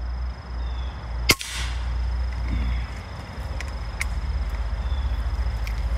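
A single sharp crack from an AEA HPSS .25 caliber air rifle fired outdoors, one isolated report followed by quiet ambient hum and faint insect-like chirps.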